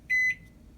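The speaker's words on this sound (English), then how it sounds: "Press the clock button," A Toshiba ML-EM34P countertop microwave gives a single short electronic beep as its clock button is pressed, clear and close against a quiet room.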